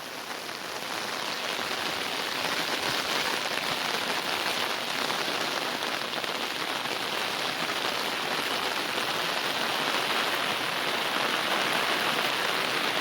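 Steady, dense heavy monsoon rain in Konkan, pouring over flooded paddy fields beside an overflowing river, a constant loud hiss from start to finish.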